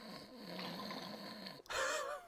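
A person imitates snoring, a long raspy drawn-in breath followed by a harsher snort-like exhale, faint and close.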